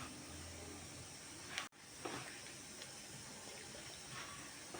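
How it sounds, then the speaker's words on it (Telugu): Water is poured into salted maida flour for pani puri dough, a faint, quiet trickling and splashing with a single soft knock partway through. "ఇప్పుడు కొన్ని వాటర్ వేసుకొని కలుపుకుందాం"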